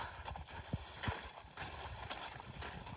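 An old, stiff ranch horse is ridden at a slow walk, and its hooves clip-clop in a soft, uneven rhythm against a steady, noisy background.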